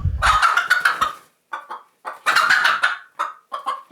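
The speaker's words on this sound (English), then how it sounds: "Crazy chicken." Pet chicken clucking in loud, close bursts of rapid squawky calls, pausing briefly between phrases.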